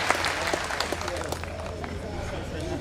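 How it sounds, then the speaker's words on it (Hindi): Audience applause at a Hindi poetry recital, a dense steady patter of many hands clapping throughout, with crowd murmur mixed in. "एक बार तालियां भाई"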